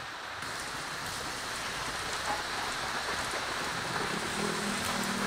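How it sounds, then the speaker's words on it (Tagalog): Steady rain pours down, a dense even hiss of drops hitting surfaces with no pauses, fairly close and moderately loud. "ingat po kayo dahil sa ngayong panahon ay maulan."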